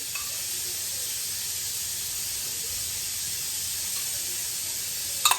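Continuous soft hiss and sizzle of tomato paste melting in a pot, steady and fairly quiet, with a brief clatter at the very end.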